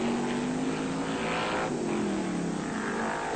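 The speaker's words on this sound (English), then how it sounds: "Car sounding good." A race car engine at the 1978 Australian Grand Prix drones continuously, a steady mid-pitched tone that bends slightly downward as the car passes, heard alone at moderate volume.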